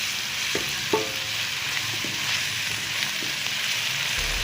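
Onions with ginger-garlic paste fry in a pan for aloo bhujia, giving a dense, even hiss of sizzling oil throughout with a few faint utensil taps early on and no voices.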